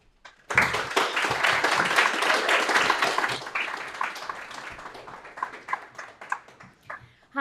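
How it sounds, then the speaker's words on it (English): An adult audience at a Sheffield content club event breaks into loud, sustained applause that starts abruptly, then gradually thins into scattered individual claps. "I would love you to give her the biggest round of applause possible."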